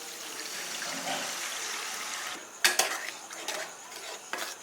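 Water is poured into a pan of spiced rohu fish curry with poppy seed and green chilli paste. A soft, steady pouring rush gives way to a few metallic clinks and scrapes of stirring, and there is no talking.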